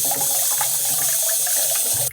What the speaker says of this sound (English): And I'll just give them a nice little rinse.